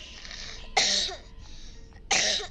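Granny, the old woman in the horror video game Granny Chapter 2, coughs twice in short harsh throaty bursts, each followed by a trailing rasp, with a quiet pause between them.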